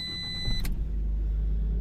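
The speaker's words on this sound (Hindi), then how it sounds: "सो जरा गाड़ी को करते हैं स्टार्ट" A Fiat Linea car engine starts with a short crank and catches, then settles into a steady low idle, close by and fairly quiet.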